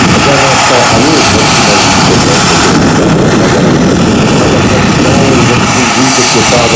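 A radio-controlled model helicopter flies at the ICARE air meet, giving a loud, dense, unbroken roar of engine and rotor noise that holds steady throughout, with a voice talking faintly underneath.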